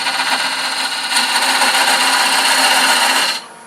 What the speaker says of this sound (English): Now we're going to use a box scraper and size that.